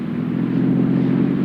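A car engine running on Atlantic Imperial gasoline hums smoothly and steadily, a low even drone without knocking, heard up close for a short stretch.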